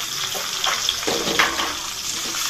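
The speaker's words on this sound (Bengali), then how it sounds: "এবার ওই তেলেতেই আমি ডুমো ডুমো করে কাটা আলুগুলোকে দিয়ে দিলাম।" Diced potatoes drop into hot oil in a dark kadai while cooking a Bengali gathi kochu and prawn curry, giving a steady close hiss of frying with brief louder sizzling bursts.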